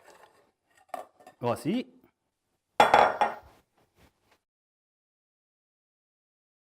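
A pan holding 1 kg of pumpkin flesh with sugar is set down on the stove to cook, giving a few metallic clanks and clinks of pot and utensils, then silence; someone briefly speaks.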